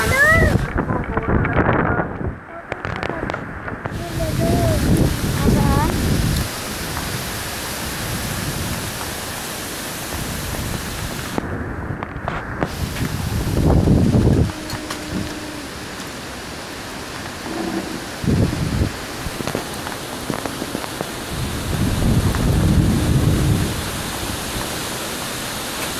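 Typhoon wind and heavy rain roar as a dense, continuous rush with surging gusts, loud and close, while people shout and talk over the storm.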